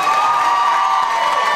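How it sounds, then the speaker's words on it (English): Steady applause and cheering from a crowd at a teen singing contest prize announcement fill the space, a dense continuous wash of clapping with no pauses. "Please, everybody, give her a round of applause."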